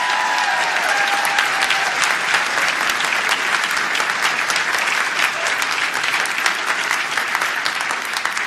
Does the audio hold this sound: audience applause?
yes